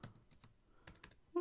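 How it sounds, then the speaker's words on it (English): Keys on a computer keyboard being typed in short clustered bursts of a few taps, quiet and close, during a PowerPoint tutorial, ending with a louder click or tone. "So we'll just type in the actual words again."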